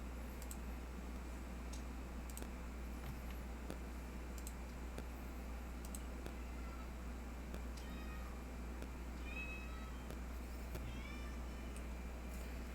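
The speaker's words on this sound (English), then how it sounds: "if you hear cat meowing in the background, it's just mine." A pet cat meows faintly in the background of a quiet room, a few soft high calls over steady low hum and occasional clicks.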